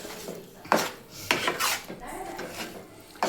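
A spoon scrapes and clatters against a pan while masala is stirred into eggplants for Telangana-style bagara baingan, with a few sharp scraping strokes spaced over a few seconds and quieter rubbing between them.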